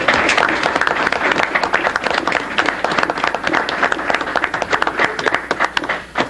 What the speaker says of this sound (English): I would like to see the audience give a little applause for the job they've all done